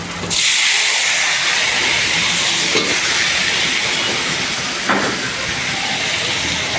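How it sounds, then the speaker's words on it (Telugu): Ginger paste frying for liver fry gives off a steady, loud sizzling hiss that holds for the whole stretch, with a couple of brief sharper crackles partway through. "అల్లం పేస్ట్ బాగా వేగాలి ఎర్రగా."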